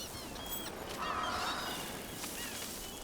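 Geese-like birds honk faintly after being fed in the Dragon Age: The Veilguard video game. Several soft, distant honks sound over a low, steady outdoor ambience with no talking.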